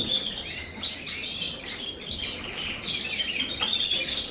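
Caged birds chirp and tweet in a block-built birdroom with purpose-built cages, a busy overlapping chorus of high twittering calls heard close and fairly soft, with no voices.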